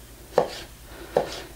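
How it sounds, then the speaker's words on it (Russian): Two crisp knife cuts through firm pickled paprika, each a sharp chop landing on a board, spaced under a second apart in a quiet room. "Идет именно нарезка, никакого проскальзывания по кожице маринованной паприки."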